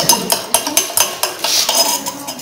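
Spoon clinking against a glass while stirring oxalic acid solution in a lab, a steady series of bright metallic taps and scrapes, close and fairly loud, with no talking.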